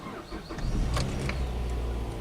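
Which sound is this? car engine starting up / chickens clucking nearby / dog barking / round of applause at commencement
car engine starting up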